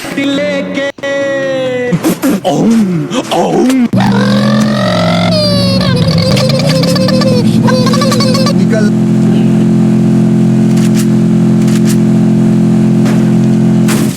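Vehicle driving in the battle-royale game Garena Free Fire, with a steady, loud engine drone that holds on after earlier revving and shifting pitch, running under the game audio throughout.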